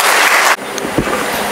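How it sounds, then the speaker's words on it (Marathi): An audience at a teachers' felicitation ceremony claps loudly in a dense burst that stops abruptly about halfway through, leaving scattered, softer hand claps and room noise. "टाळ्या अशा मरेलवाणी वाजवायच्या नाही"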